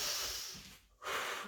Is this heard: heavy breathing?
yes